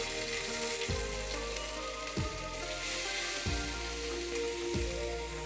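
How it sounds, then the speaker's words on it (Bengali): Ginger and green chili paste with turmeric frying in hot oil, a steady close sizzle with four soft, regular scraping strokes as the paste is worked around the pan, no voices. "এবারে মশলাটাকে ভালো করে কষিয়ে নেব।"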